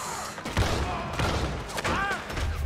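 Several gunshots and thuds in a Red Dead Redemption 2 shootout during a jailbreak, loud and irregular, mixed with shouting voices.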